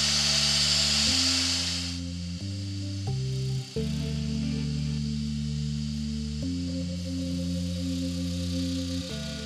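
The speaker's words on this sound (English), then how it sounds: "I'm going to start off by squaring off the left hand end as close as I can get to the drive centre" A woodturning lathe spins a wood blank as a tool squares off its left-hand end near the drive centre, giving a steady loud tonal hum with shifting pitches and a scraping hiss early on, continuous throughout.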